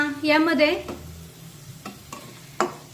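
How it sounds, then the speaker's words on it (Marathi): Spices and onions being sautéed in a pan: a short burst of tonal noise, then soft frying with a few scraping stirs and a sharper clink near the end. "आता 1 मिनिट हे सर्व मसाले मी कांद्यासोबत छानपैकी परतून घेतलेले आहेत"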